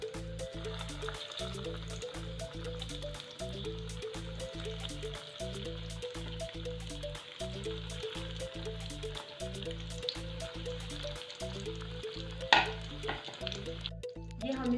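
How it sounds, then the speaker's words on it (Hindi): Chicken potato cutlets frying in hot oil, a steady close sizzle with bubbling that continues throughout, with occasional small clinks of a utensil near the end. "अब हम इसको फ्राई करेंगे"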